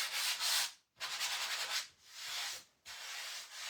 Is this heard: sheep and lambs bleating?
no